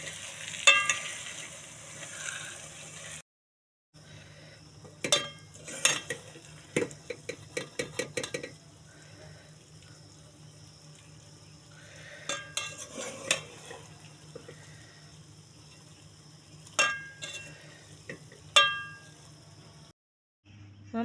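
Masala being mixed in a pan during a home cooking contest, heard as scattered scraping and clinking of a spoon against the pan, with a quick rattling run of strokes and quieter gaps in between.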